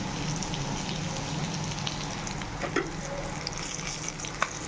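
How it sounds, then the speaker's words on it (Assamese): Fish frying in a pan at home sends up a constant soft sizzle and crackle, with a few sharp pops and clicks now and then, and nobody talking. "আৰু ইপিনে মাছ ফ্ৰাই কৰি আছো।"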